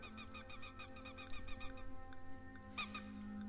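In the game Nightmare Files Clap Clap, a rubber duck gives a fast run of about a dozen high rubbery squeaks. A pause follows, then two more squeaks, all over a quiet hum.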